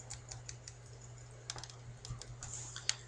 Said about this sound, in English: I could type the play name